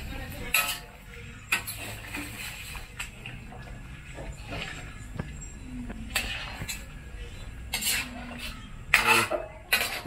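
Chicken in a simmering pot of ginataang manok being turned over: scattered close clinks and scrapes of a utensil against the pot, with a few louder knocks near the end over a low bubbling background.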